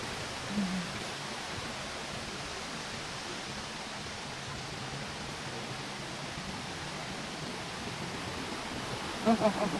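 Saitabat waterfall in Bursa pours in a steady, dense roar of rushing water that fills the whole stretch, with a brief murmur of voices near the start and end.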